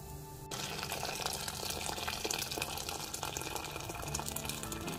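Boiling water pours steadily into a pot of pumpkin soup in a continuous gushing stream, starting abruptly after a brief pause and running loud and unbroken to the end.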